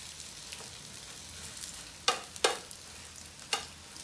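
Bread slices for French toast frying in a pan, giving a quiet steady sizzle with a few sharp scraping clicks as the spatula turns them, no voices.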